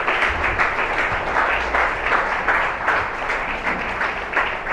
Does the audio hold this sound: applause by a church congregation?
yes